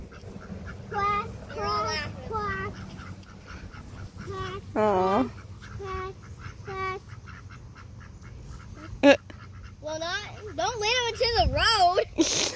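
Ducks quack in a series of loud, close bursts with pauses between, growing busier toward the end, while people talk nearby.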